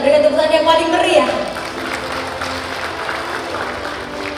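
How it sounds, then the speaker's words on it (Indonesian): Applause from the audience at a formal Indonesian ceremony attended by the Vice President. A voice is heard briefly at the start, then a broad, even wash of clapping fills the hall at moderate distance. "Kita berikan tepuk tangan yang paling meriah."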